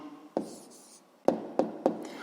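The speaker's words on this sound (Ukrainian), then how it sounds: "Давайте я десь тут запишу." Pen or chalk writing out the answer to a sixth-grade maths equation, a close scratchy stroke followed by three short sharp taps, with no talk.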